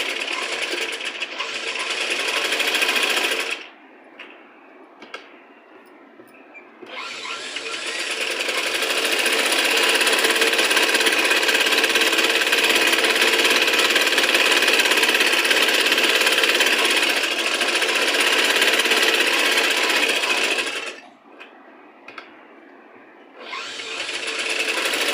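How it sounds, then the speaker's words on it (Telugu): A sewing machine stitches around fabric piping in long steady runs, a loud continuous whirring motor that pauses briefly near the start and again toward the end. "ఇప్పుడు చుట్టూ ఒక స్టిచ్ వేసేసుకోవాలి."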